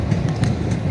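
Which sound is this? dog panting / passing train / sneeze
passing train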